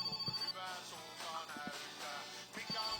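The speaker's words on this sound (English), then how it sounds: "I've got phone to answer." A telephone rings in My Winter Car, a rapid warbling electronic ring in repeated bursts over low indoor background noise, moderately loud.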